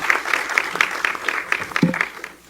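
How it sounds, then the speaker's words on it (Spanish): A small conference audience applauds the day's speakers, a sparse patter of claps at a steady rhythm, moderately close and fading out within a few seconds. "me gustaría darle un aplauso a los ponentes del día de hoy"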